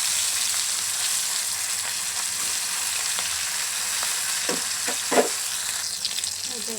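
Hilsa fish fry in hot oil with a steady, close sizzling hiss, broken by a few soft scraping and utensil knocks toward the end; no one speaks.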